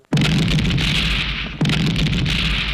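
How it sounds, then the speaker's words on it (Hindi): Petrol pump blown up in a 1996 Hindi action film, two heavy booming explosion bursts, each with a sharp loud onset followed by a sustained roaring rumble, the second starting partway through. "धमाका सुना गौड़ा, तेरे जॉन्टी दल्ले के साथ मैंने तेरा पेट्रोल पंप उड़ा दिया है।"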